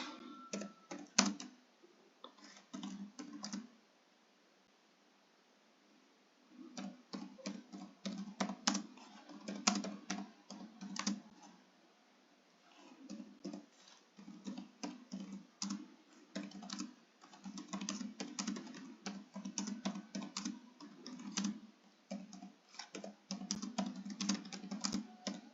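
Steady clicking of typing on a computer keyboard, quick bursts of keystrokes with short pauses, close and fairly quiet.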